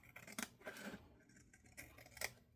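Scissors snipping while trimming a holiday window decoration, a few quiet close crisp cuts spaced irregularly, with no speech.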